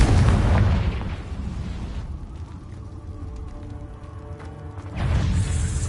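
The Confringo explosive spell cast in Hogwarts Legacy: a loud fiery blast at the start that rumbles down, then a second heavy burst near the end, with no talk.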